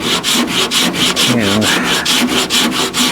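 A hand sanding block scrapes back and forth across the flat steel tailgate panel of a 1970 El Camino in steady, rhythmic strokes, close and loud, with no talk.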